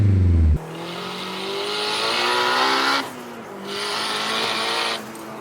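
Turbocharged K20 engine in a Honda Civic EK9 Type R roaring loud and close through two hard revs, rising in pitch each time with a brief drop and pause between pulls.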